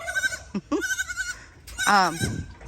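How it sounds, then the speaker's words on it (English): Goats, including a baby goat, bleating on a farm with sheep, turkeys, ducks and geese: several close, wavering bleats, two short calls followed by a longer quavering one after a brief pause. "We have sheep, goats. You see the baby goat is coming."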